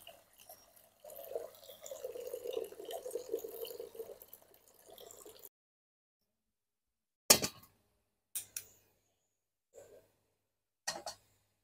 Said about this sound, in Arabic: بقلب طنجرة صغيرة بنضيف نص لتر من المي